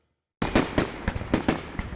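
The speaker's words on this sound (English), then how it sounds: "the fireworks are returning to the Northwest Arkansas Mall" Fireworks explode at a Fourth of July show at the Northwest Arkansas Mall, with a rapid series of sharp booming bursts, about half a dozen loud cracks in quick succession after a moment of silence.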